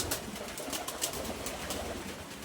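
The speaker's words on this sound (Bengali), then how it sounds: "আর এখানে দেখেন আমার কালো সিরাজি সঙ্গে একটা রেসার কবুতর জোড়া নিয়েছে।" Domestic pigeons, a black Sirazi paired with a racer nesting on eggs, coo softly and continuously at close range amid faint wing and rustling noise, with no talk.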